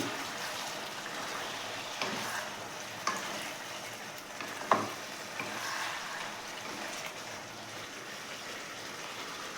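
Kadai chicken cooking in a kadai as kasuri methi and garam masala are stirred in, a soft steady sizzle with a few scraping knocks of the spoon against the pan, fairly quiet and without talk.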